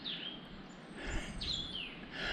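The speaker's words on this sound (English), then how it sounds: "It's a nice bird." A bird sings a few thin, high whistled notes, moderately near, against a steady outdoor background hiss in the wilderness, with no voices.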